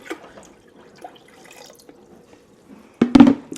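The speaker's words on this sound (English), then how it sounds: "So I'm going to add some more water." Water is poured into a canning pot during cherry pie filling canning, heard as a brief, fairly loud splashing gush near the end after quiet kitchen clatter.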